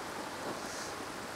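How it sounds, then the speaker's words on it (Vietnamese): Wind roars with heavy rain during a thunderstorm at a fishing spot, a dense, steady rushing wash with no voices or distinct events. "Mưa gió dã man quá."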